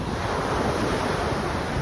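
Strong wind roars against the microphone at a Miami seashore, a constant, loud rushing blended with surf, with no voices.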